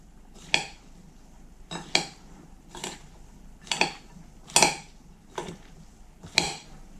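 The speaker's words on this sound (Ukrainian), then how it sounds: "Гарненько перемішаю, все, начинка готова." A spoon stirs a cabbage and potato pie filling in a bowl, with seven clinking scrapes at a steady, unhurried rhythm, close and moderately loud, with no voices.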